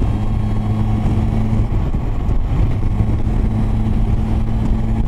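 A Kawasaki Versys 1000 motorcycle on a test ride drones with a loud, steady engine hum, wind and road noise running unbroken throughout.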